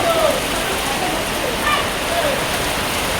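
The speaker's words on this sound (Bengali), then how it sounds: "বিভৎস ঝড় উঠেছে, বিভৎস ঝড়, ঝড় বৃষ্টি, কালবৈশাখী ঝড় উঠেছে।" Heavy rain pours steadily during a Kalbaishakhi storm, a dense, even hiss that holds at one loud level for the whole stretch, with a few faint voices now and then.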